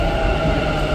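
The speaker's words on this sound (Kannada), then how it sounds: "so metro ಹತ್ತಿದ್ದೀವಿ" A metro train rides along, a loud, steady rumble with a humming drone heard from inside the carriage, with no talk.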